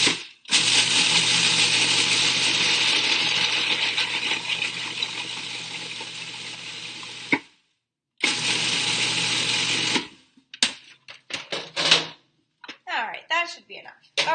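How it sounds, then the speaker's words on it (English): A blender grinds rolled oats into instant oats in one long, loud burst, stops, then runs again briefly. Clattering and knocking of handled kitchen items follow. "make instant oats out of rolled oats just by putting them in your blender or food processor"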